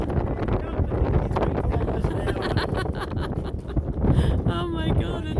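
Strong gale wind blows outdoors in the opal-mining country around Andamooka, buffeting the microphone with a steady, loud roar and gusts throughout, while voices talk over it.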